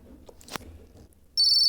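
A phone in the Toca Boca video game starts ringing with a sustained electronic ringtone after a few soft clicks and rustles.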